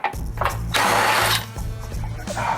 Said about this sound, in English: we're gonna go ahead and remove the winch bolts